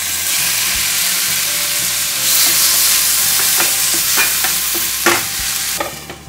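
Tomatoes hit a hot pan for kadai paneer, giving a steady loud sizzle with bursts of spatula scraping and stirring clatter toward the end, no voices over it.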